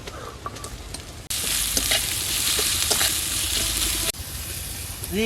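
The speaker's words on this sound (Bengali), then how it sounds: "আদা রসুন অর্ধ ভাজি করে নিয়েছি, এবার দিয়ে দিচ্ছি পেঁয়াজ কুচি" Chopped onion hits a pan of half-fried ginger and garlic with a sudden loud sizzle that holds steady for a few seconds before dropping back, with light stirring before and after.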